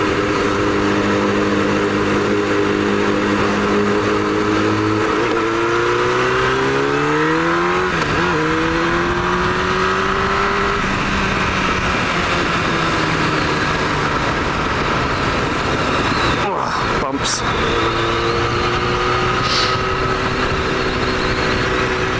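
Engine drone from a 1999 Yamaha R1 motorcycle while riding, rising and falling in pitch as it speeds up and slows, with steady wind and road noise throughout, no voices.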